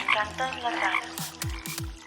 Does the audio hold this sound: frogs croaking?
yes